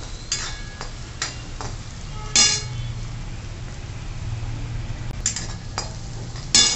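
Crushed garlic sautéing in oil, a low steady sizzle under sharp scraping and tapping of a spatula against the pan at irregular intervals.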